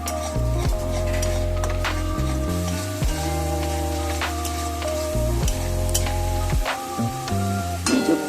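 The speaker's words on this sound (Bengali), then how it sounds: "পেঁয়াজের পেস্টটাকে কিছুক্ষণ নেড়ে চেড়ে নিতে হবে" Onion paste stirred and fried in a pan: a loud, continuous sizzle with rhythmic scraping and knocking of a spatula against the pan throughout.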